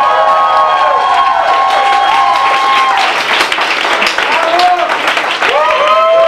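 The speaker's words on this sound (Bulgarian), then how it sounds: "Тези аплодисменти са за Кума по-силни!" Wedding guests clap and cheer loudly at a reception toast, a dense roar of applause with shouted whoops and voices riding over it, close and continuous throughout.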